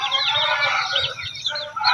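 A large young rooster crows loudly and close by on a farm, a long strained call with clucking fowl around it.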